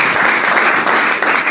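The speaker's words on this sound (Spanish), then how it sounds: "Regálele un aplauso al Señor." Church congregation applauding during a worship service, a dense, steady wash of clapping that holds loud and even throughout.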